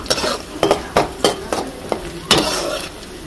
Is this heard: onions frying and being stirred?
yes